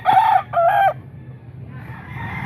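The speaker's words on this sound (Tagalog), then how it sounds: "Napakaraming manok ngayon mga boss dito sa grotto." A rooster crows loudly nearby in a short two-part call at a busy outdoor market selling many chickens, followed by softer background clucking from other chickens.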